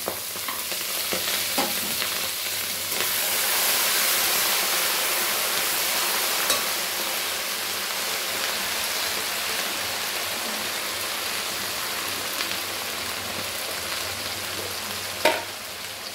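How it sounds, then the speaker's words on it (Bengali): Spices and ginger paste frying in a pan while being stirred, a dense, continuous sizzle with occasional scraping strokes, steady and close for the whole stretch without any voices. "এগুলো দিয়ে আমরা এখন এটাকে ভালো করে মশলাটা কষিয়ে নেব"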